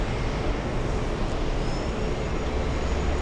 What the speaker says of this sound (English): Have a safe flight to Naples, Delta 232, leaving in a spectacular fashion.